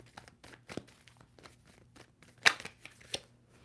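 A deck of tarot cards is shuffled by hand, giving a series of soft, irregular papery riffles and slaps with one sharper snap near the middle.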